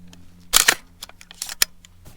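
Sharp metallic clacks and clicks as a Uintah Precision UPR15 AR-15 rifle is loaded and its bolt worked, a loud double snap followed by several smaller close clicks, no talking.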